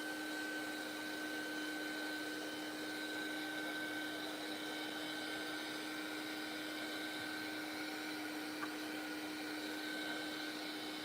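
A heat tool dries paint in an art journal, giving a steady, continuous whirring blow with a fixed tone, close and unbroken from start to finish, with no talking.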